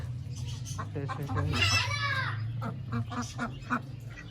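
Several ducks quacking loudly and close by, overlapping calls in bursts, with a person talking underneath.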